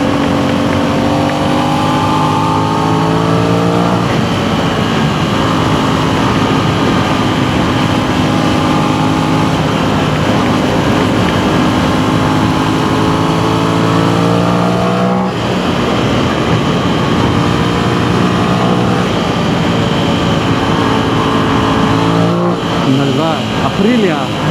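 An Aprilia Tuono 660 twin-cylinder sportbike on a first ride: a loud engine drone rises and falls through gear changes and revs, with steady wind rush over it and occasional voices.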